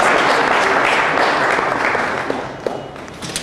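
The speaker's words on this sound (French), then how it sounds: "On va l'applaudir." An audience at a sports award ceremony gives a club president and team a loud round of applause, a thick continuous patter of many hands that fades gradually toward the end.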